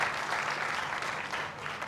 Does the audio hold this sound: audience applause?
yes